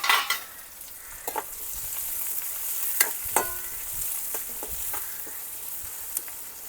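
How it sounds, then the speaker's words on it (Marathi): Finely chopped onion and tomato sautéing in hot oil over a wood-fired stove, a steady crackling sizzle punctuated by scattered sharp spatula knocks against the pan. "आता गरम गरम तेलामध्ये आपण घालून घेऊ ते म्हणजे बारीक चिरलेला कांदा आणि टोमॅटो आणि मस्तपैकी तेलावर परतवून घेऊ आपण"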